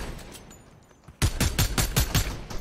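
Gunfire in the video game Call of Duty Blackout: after a quiet second, a loud rapid burst of about seven shots rings out close by.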